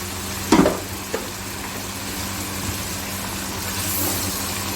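Boiled beef is dropped into a hot karahi pan with a short clatter, then settles into a steady, moderate sizzle with a low hum underneath.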